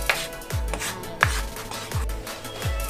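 A spoon stirs flour in a bowl for chicken popcorn batter, giving scraping strokes with sharp knocks roughly every half second, close and steady, with no talking.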